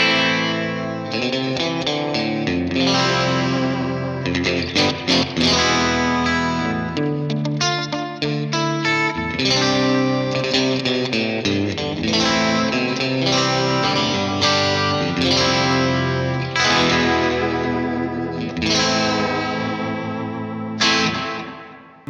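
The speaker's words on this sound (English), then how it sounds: "And the spring reverb." Electric guitar playing chords and lines continuously through a spring reverb, each note washed in a splashy, lingering reverb tail, with no voices.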